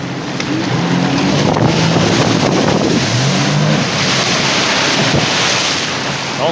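A jet ski running over open water near a shore on a bright day, its engine droning steadily throughout with loud wind buffeting and splashing water close by.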